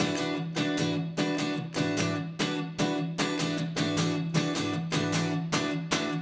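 An acoustic guitar strummed with a double-hit stroke at a slow tempo, paired chord strikes repeating in a steady rhythmic pattern, full and sustained, close up with no talking.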